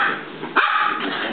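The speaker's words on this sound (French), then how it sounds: "Des chiens." Dogs bark outdoors near a herd of animals, giving a short, fairly loud burst of a bark or two with no talking.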